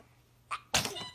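A baby sneezes once, a short breathy intake followed by a sharp little burst that trails off quickly, close and clear.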